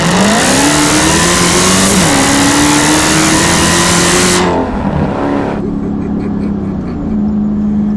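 A 2015 Dodge Charger Hellcat in track mode revs hard, its engine climbing loud and close through rising pitch, then the roar cuts back partway through and settles into a lower, steadier drone.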